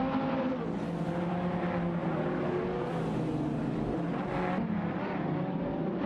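Racing video game cars, a BMW M512 and a Ford GT05, roar continuously with layered engine tones rising and falling as they battle closely for position, loud and steady with no talk.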